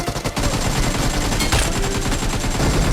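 Rapid automatic gunfire in a BGMI (PUBG Mobile) fight, dense loud bursts of shots filling the whole stretch, with one sharper crack near the middle.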